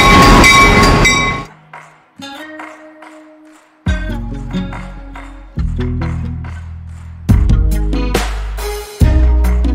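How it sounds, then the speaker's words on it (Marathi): A tourist train ride at Jim Thorpe: loud bursts of horn tones and rumbling railcars come in separate sections, with short quiet gaps between them. "अरिंची फर्स्ट होती ट्रेन राईड"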